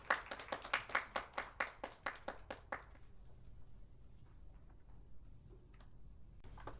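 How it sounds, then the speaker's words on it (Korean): Audience clapping at an academic conference session, a quick run of sharp close hand claps for about three seconds that then stops, leaving faint room noise and scattered taps. "박수 부탁드리겠습니다."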